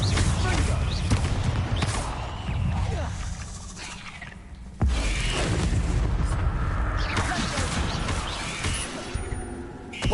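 Spell explosions from the Bombarda charm in a Harry Potter video game, heavy booming blasts with a sharp low thump midway, layered over continuous game noise and a voice speaking.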